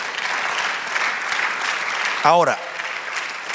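Church congregation applauding during a sermon, a steady wash of clapping filling the room before a preacher briefly speaks over it.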